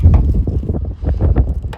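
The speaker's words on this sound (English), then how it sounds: "it's a bit windy out here today" Gusty wind buffets the microphone outdoors in loud, uneven low rumbles, with a few faint knocks and rattles nearby.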